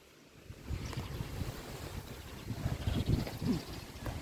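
Gusty wind roars steadily and blows against overhead power lines in an open vegetable garden, loud and buffeting throughout with rising surges near the end, and no talking.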